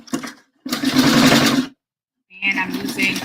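A domestic sewing machine stitching to tack the hook piece onto a handmade bra, in two loud, steady motor-driven bursts separated by a silent pause, with a brief run of stitching at the start.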